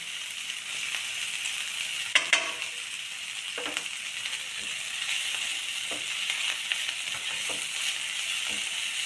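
A gravy base with Kashmiri chili powder sizzles steadily in a pan, a continuous loud frying hiss broken by occasional scrapes and stirring knocks, with no voices.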